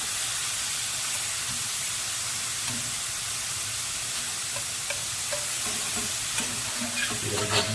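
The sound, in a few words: minced pork sizzling in frying pan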